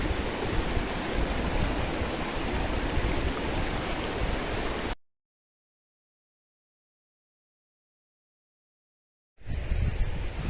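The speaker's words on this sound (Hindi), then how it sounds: "ये देखिए पानी बस यहीं से ही निकल रहा है, ऊपर कुछ नहीं है।" Water rushes steadily from a mountain spring on the Chattergala route, a dense, close splashing hiss that cuts out to silence midway and then returns.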